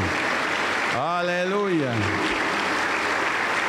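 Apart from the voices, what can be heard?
applause in a church congregation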